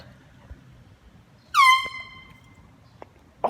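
A single loud handheld air horn blast, harsh and brassy, sounding for about half a second close by outdoors in the cold, with faint background noise and a couple of small knocks around it.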